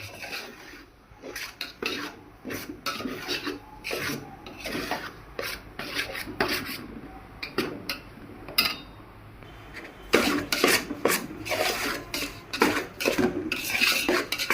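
Semolina roasting in a pan while being stirred for kesari, giving a steady rasping scrape with repeated close scraping strokes that grow louder and denser toward the end, with no talk.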